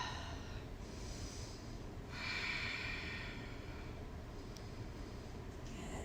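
Breathing during a morning yoga flow: steady, airy inhales and exhales with a stronger, hissing breath in the middle, close and continuous with no talking.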